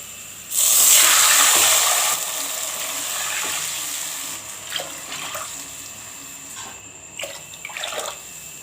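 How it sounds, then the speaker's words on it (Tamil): Water poured from a glass into a plain metal cooking pot for rice, four measures added, with a loud gushing pour over about a second and a half, then quieter trickling and light clinks of the vessel. "அதே கிளாஸில் நான் இப்போ நாலு கிளாஸ் தண்ணி சேர்க்குறேங்க"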